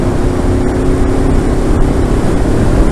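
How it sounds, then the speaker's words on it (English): A motorcycle fitted with a new exhaust runs steadily at close range, giving a loud, continuous engine drone with no voices over it. "Yeah, I knew the exhaust was gas tight. It sounds pretty good on the drive."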